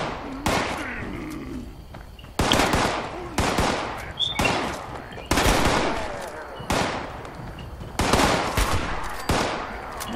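Bursts of automatic weapon fire from the post-apocalyptic video game Fallout 76, loud and close, coming in repeated volleys with brief gaps between them.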